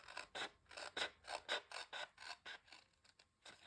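Craft cutter blade rasping through paper for a linen-themed scrapbook album, a run of about a dozen short, evenly spaced scraping strokes, close and fairly quiet with no talking.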